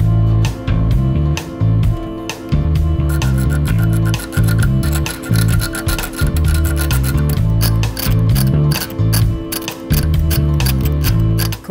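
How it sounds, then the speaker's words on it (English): Wood being roughed up by hand before gluing hinges, with rhythmic, loud back-and-forth rasping strokes close by and short pauses between passes. "I'm now going to just rough up the areas where I need to glue these hinges"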